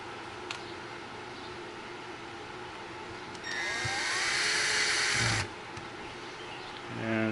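A high-pitched electric driver whirs in a burst of about two seconds as screws are backed out on a Redcat Gen8 Scout II RC truck, preceded and followed by quiet handling noises at close range.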